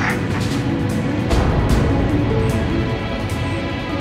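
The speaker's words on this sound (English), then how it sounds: "Fighters, I can hear the roar of your engines approaching." Fighter jet engines in the video game Ace Combat 5 roar steadily as they approach, a loud sustained broadband rumble that swells slightly midway and carries on throughout.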